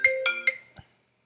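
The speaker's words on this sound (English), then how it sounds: "We got a phone call." A telephone on a call-in talk show rings with an incoming call: three quick bright melodic chimes and a lower final tone, then silence.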